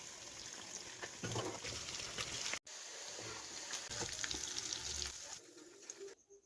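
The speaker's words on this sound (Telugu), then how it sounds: "తర్వాత ఆయిల్లో చికెన్ని గోల్డెన్ బ్రౌన్ అండ్ క్రిస్పీగా ఫ్రై చేసుకోవాలి" Chicken fries in hot oil until golden brown and crispy, a steady soft sizzle and crackle with brief stirring clatters, fairly quiet and continuous with a short break midway.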